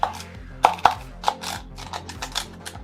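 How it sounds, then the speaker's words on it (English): A kitchen knife cuts the bad spots off washed produce, giving several sharp knocks on a cutting board spread unevenly over a few seconds, close and fairly loud, with no talking. "I'm going to cut the nasty bits off."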